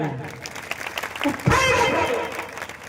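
Congregation at a Christian prayer service clapping hands together, a dense wash of claps that swells louder midway and continues steadily, with a voice speaking faintly underneath.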